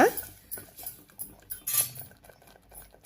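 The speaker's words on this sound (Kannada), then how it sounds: "ಹಾಗೆ ಹುಣ್ಸೆಹಣ್ಣು ರಸನೂ ಹಾಕ್ಕೊಂಡು ಮತ್ತೆ ಒಂದು ಸಲ ಚೆನ್ನಾಗಿ ಮಿಕ್ಸ್ ಮಾಡೋಣ" A spoon stirs rasam made with sambar powder and tamarind juice in a pot, clinking against the metal in irregular close taps and scrapes over a quiet background.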